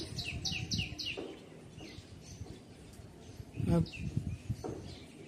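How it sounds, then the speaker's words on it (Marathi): Quick bursts of bird chirps repeat rapidly at first, then scattered calls continue over a busy outdoor background of faint voices and rustling. "असं छान असे पक्षी आवाज काढता"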